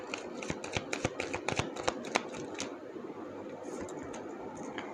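Tarot cards are shuffled and drawn up close, a quick run of sharp papery snaps and flutters in the first half that gives way to softer sliding and rustling handling.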